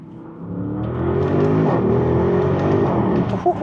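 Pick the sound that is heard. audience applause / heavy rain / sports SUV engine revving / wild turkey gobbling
sports SUV engine revving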